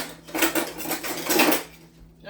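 Metal cutlery clinks and rattles as someone rummages through a kitchen drawer for a bigger knife, a short burst of jangling close by that fades out.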